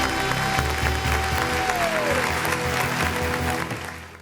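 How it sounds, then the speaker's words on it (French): An audience applauds a cosmetics brand launch with dense, steady clapping that fills the room at a loud, even level and fades near the end. "Les gars, applaudissez encore bien"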